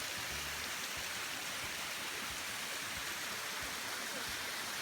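Small waterfall in a rainforest, a soft, steady trickling rush of water heard at low level, continuous and without speech.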